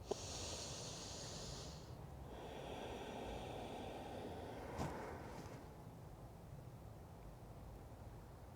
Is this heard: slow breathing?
yes